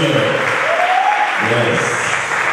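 A church congregation applauding during a service, with dense, continuous clapping throughout and a voice briefly rising above it.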